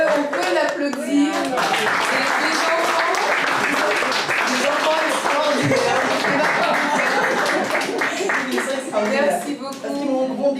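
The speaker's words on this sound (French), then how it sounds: "On peut l'applaudir." An audience at a speech applauds with sustained, dense clapping for about ten seconds, with voices and chatter mixed into the applause.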